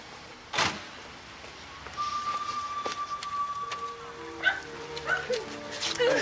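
A dog whines and yelps indoors, with thin, drawn-out whimpers and a few short yips breaking through while a person talks nearby.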